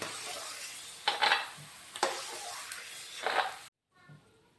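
Peanuts fry in a couple of spoons of oil in a pan for tamarind chitranna, a quiet sizzle broken by a few brief scraping stirs before the sound cuts off abruptly.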